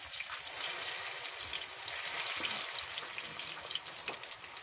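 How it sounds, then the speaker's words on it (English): Loud, continuous sizzling of bananas frying in hot oil in a pan, with crackling and bubbling throughout and no talking. "She's frying up the bananas here."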